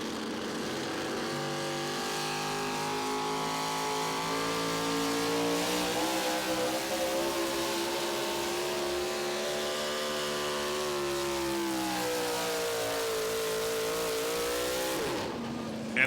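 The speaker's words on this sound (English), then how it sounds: "We're just underway in our four-wheel drive truck category." Four-wheel drive pulling trucks roar at the 2023 Dairyland Super Nationals in Tomah, Wisconsin, a loud, sustained engine howl whose pitch rises and falls through the run before cutting off at the end.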